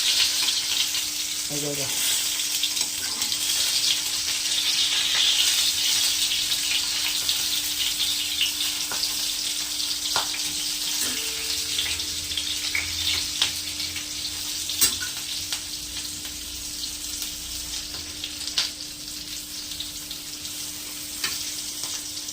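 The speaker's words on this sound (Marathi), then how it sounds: "ते मस्त असे शेकलेले आहे इकडनं मिरची." Green chilies fry in a pan for a tangy, spicy chili masala, giving a loud, steady sizzle throughout with a few light clinks and a brief spoken word.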